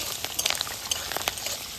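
Handmade nal papad fry in hot oil, a close, steady crackling sizzle with scattered sharp pops and bubbling throughout.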